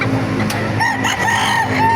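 A rooster crows loudly and close by over a busy, noisy poultry market in Baliuag, with some clucking from other fowl.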